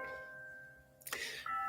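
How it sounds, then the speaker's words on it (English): Church bells ring in the distance, with a faint sustained tone that gives way to a brighter struck chime near the end. "Church bells."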